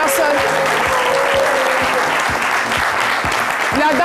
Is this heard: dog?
no